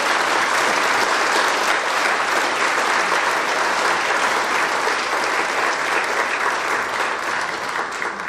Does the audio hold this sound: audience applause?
yes